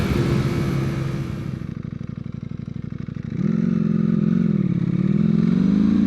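A Ducati V4R motorcycle engine runs on a road, a loud, close mechanical drone that dips slightly, then surges with a rising rev and holds a strong, steady roar.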